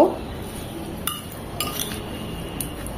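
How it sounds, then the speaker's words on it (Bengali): A spoon clinks and scrapes against a bowl while ripe guava mash is stirred with black salt and chili, a few sharp taps standing out over soft steady mixing, close and moderately loud with no talk. "খুব ভালোভাবে নেড়েচেড়ে বিট লবণ আর মরিচের সাথে মিশিয়ে নেব।"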